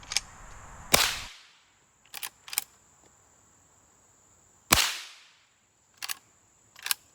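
Henry Classic rifle fired outdoors while sighting in for squirrel season: two sharp, loud cracks several seconds apart, each trailing off in a brief echo, with fainter clicks of the action between and after shots.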